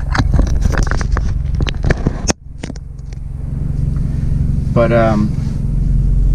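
A 2016 Hyundai Veloster Turbo roars as it accelerates hard from a launch, with tires struggling for grip, the engine loud and close before dropping away, and a voice briefly speaking near the end.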